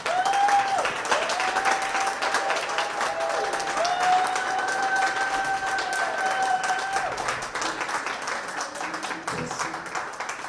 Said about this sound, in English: Please help me give a very warm welcome and an enthusiastic round of applause to this exceptional panel